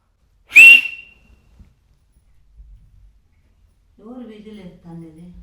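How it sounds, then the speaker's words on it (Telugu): A single short, bright whistle indoors near the start, then quiet, followed by a few seconds of speech. "ఇంట్లో విజిల్ వేయొద్దు, అట్లా వేయకూడదు"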